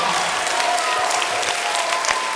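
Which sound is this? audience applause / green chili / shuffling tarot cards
audience applause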